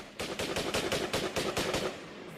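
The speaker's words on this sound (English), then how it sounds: "Gunshots" A rapid burst of gunshots, about a dozen sharp cracks in fast succession, loud and close, with no voices.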